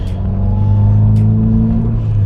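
A 2020 Subaru WRX drives along with a steady, loud low engine drone and road rumble, holding an even tone throughout with no talking.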